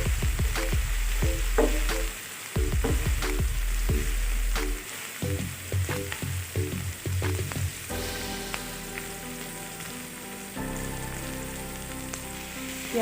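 Onions frying in a tawa pan for tawa kaleji, a steady close sizzle with intermittent scraping and stirring clatter, no talking.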